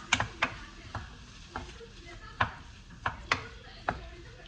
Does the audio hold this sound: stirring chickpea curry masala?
yes